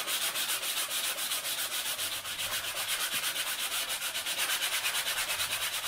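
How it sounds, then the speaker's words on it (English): Quick, regular back-and-forth sanding strokes rasp against the edges of a hard 3D-printed plastic part, close and loud, several strokes each second. "These edges I'm sanding are just where it's been sat on the bed"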